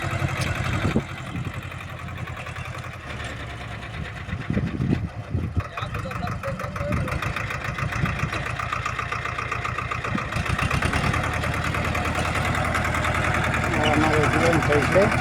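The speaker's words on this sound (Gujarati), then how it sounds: "આપણે સોનાલિકા ટ્રેક્ટર છે" A Sonalika tractor engine runs in a chilli and brinjal field, a steady rumbling idle that grows denser and louder toward the end, with people talking nearby over it.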